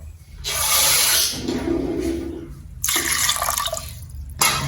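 Water poured into a pot of rice and urad dal porridge in a home kitchen, a steady splashing pour in two main bursts with a brief pause between, close and fairly loud.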